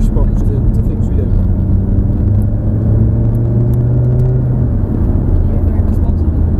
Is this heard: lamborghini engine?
yes